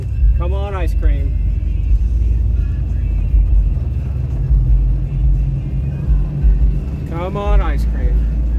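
Loud truck running on a lawn mower fuel pump, a heavy continuous low engine rumble and drone throughout, close and steady, with brief voices talking over it twice.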